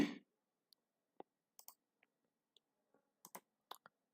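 Computer mouse clicks, a sparse series of small, quiet, dry clicks spaced irregularly over a few seconds in an otherwise silent room.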